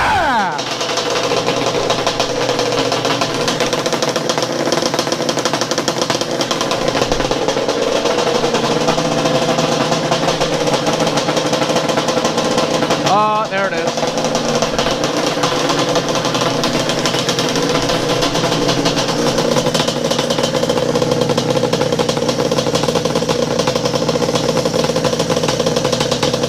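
A Yamaha Banshee two-stroke engine idling close by in a drag build, a loud, continuous buzzing drone with a dense, rattly texture that holds steady throughout, with a brief dip in the middle.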